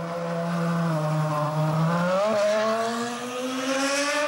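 Mark Webber's BMW Williams race car driving on the Sydney Harbour Bridge, a loud, high engine whine holding steady, then rising in pitch as it accelerates, heard close with no talk.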